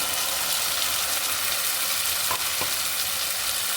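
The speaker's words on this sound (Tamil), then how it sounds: "இதுவும் பச்சை வாசனை போகிற நல்லா வதக்கிட்டு போங்க" Ground tomato paste sautés in hot oil for chicken gravy, producing a steady, dense, close sizzle throughout with a couple of brief stirring knocks near the end; no voices.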